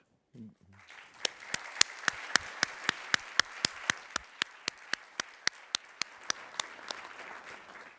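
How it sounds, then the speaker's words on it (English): A conference audience at a security dialogue breaks into a steady round of applause after a speech, with individual claps standing out distinctly and evenly through the hall. "the spontaneous applause proves the"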